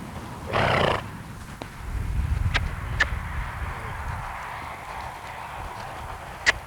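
Tennessee Walking Horse stepping and pacing, with a brief whinny or snort at the start, then a rumble of movement and a few sharp distinct hoof clops spaced out, recorded outdoors.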